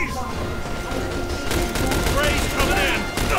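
Gunfire in the shooter game The Bureau, a dense crackling fusillade of shots running through the whole stretch, loud and busy with a brief lull before the firing picks up again.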